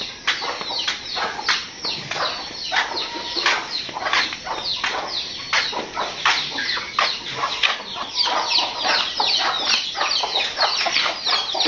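A flock of village chickens with a red rooster, a white one and a black one, clucking and squawking continuously at close range, with busy overlapping calls and some wing flapping.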